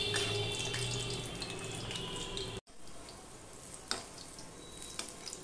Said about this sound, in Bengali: দিয়ে এই পিঠটাও আমি ভেজে নেব। গ্যাসের ফ্লেমটা কিন্তু লো টু মিডিয়ামে দেওয়া রয়েছে।